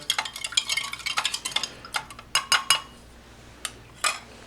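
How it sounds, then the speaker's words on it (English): A spoon stirring a lemon-flavoured drink in a metal cup from an Italian Mobile Carabinieri ration pack, a fast run of close clinks and scrapes, then a few slower taps. "Give it a stir."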